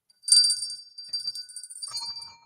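A small bell rings alone in a quiet room, giving a bright chiming strike followed by a few lighter jingling shakes that fade over a couple of seconds.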